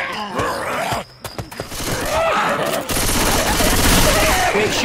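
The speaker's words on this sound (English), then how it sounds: "Quit shooting me." Rapid gunfire from weapons in the co-op zombie shooter Left 4 Dead 2, dense bursts of shots rattling loud and close, with groans and game voices mixed in among the firing.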